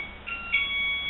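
An alarm from a cheap gadget bought at Harbor Freight beeps in a steady, high-pitched electronic tone, clear and continuous, with no talking over it.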